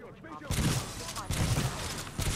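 Titanfall 2 gun fire: three loud, spaced shots, each a sharp burst with a short decaying tail, close up, following a brief stretch of game sound and a voice.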